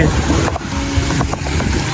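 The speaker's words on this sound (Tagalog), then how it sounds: "Ang laki ng alon." Loud, continuous rush of ocean surf at a beach resort in Sariaya, Philippines, with big waves and wind noise buffeting the microphone, water churning steadily throughout.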